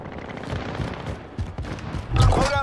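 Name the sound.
gunfire in the video game Warzone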